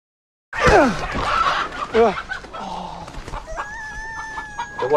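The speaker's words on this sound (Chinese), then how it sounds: "这就是我们鸡舍了。" Free-range local hens and a rooster in a chicken coop: a loud crow and clucking break out abruptly, followed by scattered clucks and a drawn-out crowing call near the end.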